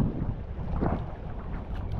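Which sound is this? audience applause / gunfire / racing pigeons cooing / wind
wind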